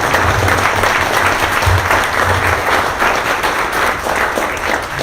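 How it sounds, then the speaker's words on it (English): A loud, steady round of audience applause for Rue fills the whole stretch, with dense overlapping claps and a low murmur of crowd underneath. "can we just give Rue a round of applause?"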